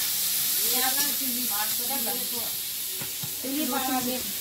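Panch phoron spices and bay leaf sizzle in hot oil in a home kitchen, a soft, steady frying hiss beneath a voice talking over it.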